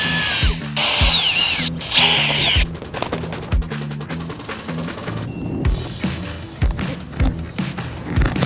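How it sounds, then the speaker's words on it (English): A power auger bores into soil for spring planting, a loud, close mechanical whir that surges and cuts out repeatedly, with scraping and knocking between bursts. "we're gonna do some spring planting with an auger"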